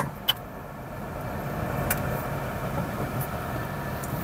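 A car offered at a vehicle auction in a yard in Caçapava, São Paulo runs at a steady idle, its engine a low continuous rumble with a brief click near the start and no voices.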